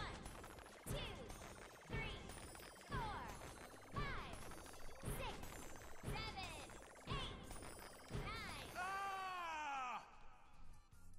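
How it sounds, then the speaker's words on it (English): Repeated screams and crashing hits in the hack-and-slash game Lollipop Chainsaw, a string of loud impacts each paired with a wailing cry, ending in a long drawn-out scream, with talk in between. "What's that scream for?"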